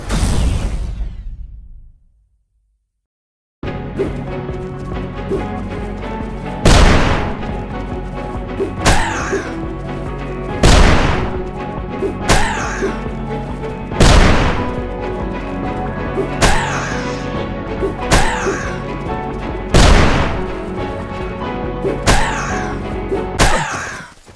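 Repeated heavy impacts from grenade explosions in the video game UnMetal, loud booms recurring every few seconds over a continuous music bed after a short silence.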